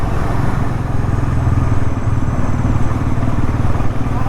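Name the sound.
Bajaj Pulsar NS 400 motorcycle riding slowly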